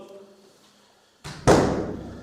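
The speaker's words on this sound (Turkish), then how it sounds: "Şu kapıyı kapatalım." A villa bedroom door swings shut with a soft first bump, then a loud close slam that rings briefly in the room, after faint quiet sound at the start.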